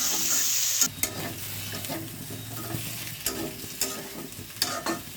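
Ginger and green chili sautéing in a pan, a loud hiss at first that settles into a steady sizzle, with occasional scraping knocks of a stirring spoon, close up.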